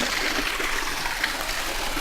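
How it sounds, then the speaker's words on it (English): A waterfall pours beside a large rock shelter in a forest, a steady, bright hiss of falling water that fills the air without pause. "That's unique to have a waterfall next to such a large shelter"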